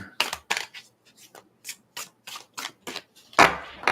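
A deck of tarot cards being split and shuffled by hand, a series of crisp riffling and rubbing bursts in an uneven rhythm, close and clear with no talking.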